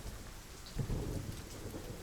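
Rain and thunder sound together as a steady, fairly faint wash of rainfall with a low rolling rumble of thunder swelling partway through, with no voices.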